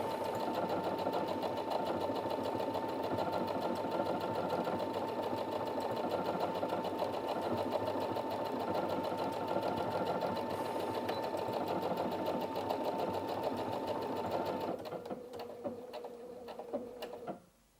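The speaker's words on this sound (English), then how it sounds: "So if I start sewing this one, I'll just slow it down a bit." Brother Inventio NV1350 sewing machine running a decorative stitch at a slowed speed: a steady, close, rapid mechanical whirring and ticking that shifts to a sparser rhythm near the end, then stops.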